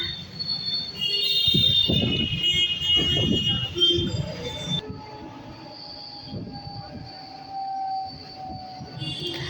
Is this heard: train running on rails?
yes